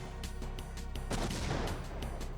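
A hand cannon fires in the Wild Arms video game as a short burst of blasts with a broad, crunchy retro game sound, followed by a longer noisy rumble, with no voices.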